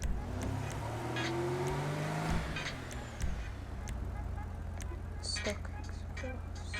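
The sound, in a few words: car engine revving after engine tune upgrade in GTA 5 video game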